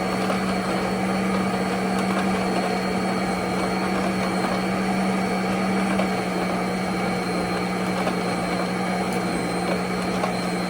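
A 1950s Sunbeam Mixmaster and a new stand mixer run together on speed 7, working through beef with a constant whirring motor hum and a gritty rattle that never lets up.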